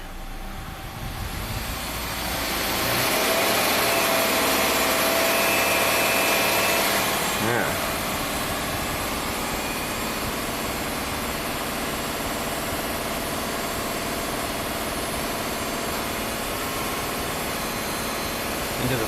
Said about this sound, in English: this compressor sounds kind of like a chainsaw